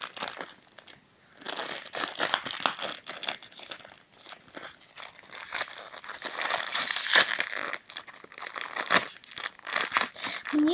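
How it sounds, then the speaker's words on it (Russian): Close, crinkly rustling and tearing of a small plastic blind-bag packet of miniature toys, irregular bursts of crackling over about ten seconds, no talking. "Давайте вот этот пакетик откроем."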